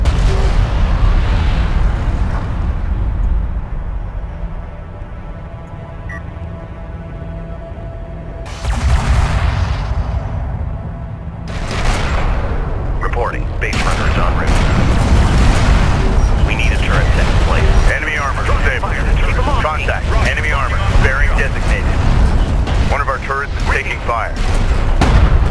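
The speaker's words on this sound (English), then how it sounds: "Sensor's post is under fire." Gunfire and heavy explosions hit a sensor post in the video game Homeworld: Deserts of Kharak: loud, continuous booming and crackling battle noise with repeated blasts. A voice speaks in the mix.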